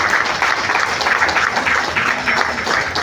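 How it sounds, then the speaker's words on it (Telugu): An audience at an insurance agents' training session breaks into loud, sustained applause, many hands clapping in a dense, steady wash with no voices over it. "చప్పట్లు కొడితే తీసుకున్నట్లే లెక్క"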